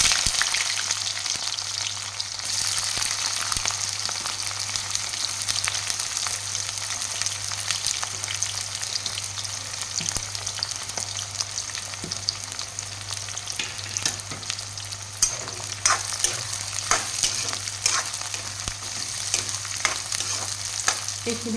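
Onions fry in hot oil with a dried red chilli, bay leaves and panch phoron for an Assamese chicken curry, giving a steady close sizzle with scraping stir clicks and no talking.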